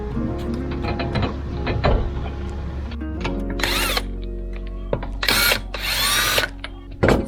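A power tool gun, likely an impact gun, works on the gearbox of a Proton Saga with a 4G93 engine, firing in several loud, close bursts of whirring and rattling hammering between pauses, with a low hum underneath.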